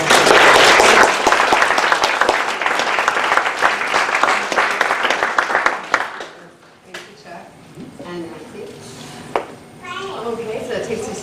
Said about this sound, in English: And we give her a round of applause.